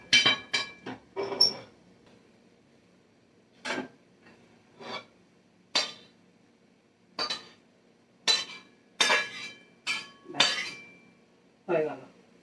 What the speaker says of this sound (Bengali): এই তরকারিটা ঢেলে দিয়ে আমি কড়াইটা